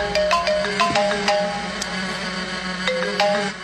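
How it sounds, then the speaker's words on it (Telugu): A phone ringtone rings loudly and close in a tense film scene, a repeating bright electronic melody of short beeping notes that cycles through several times with no talking. "ఫోన్ తీయవేంట్రా?"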